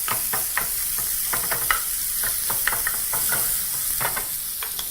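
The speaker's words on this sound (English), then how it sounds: "at high heat, proceed to brown your meat. Making sure to break the pieces up once they hit your pan" Minced beef browns over high heat in a pan, a loud continuous sizzle broken by rapid scraping and clacking as the pieces are broken up and stirred, close and steady with no voices.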